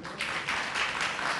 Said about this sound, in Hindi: इनके लिए तालियां बजाएं बहुत सारी